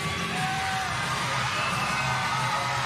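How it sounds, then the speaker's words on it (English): A large crowd cheering and whooping at a girls basketball state championship game, a continuous dense roar of voices with scattered shouts at steady, fairly loud level throughout. "We have a tremendous crowd here tonight."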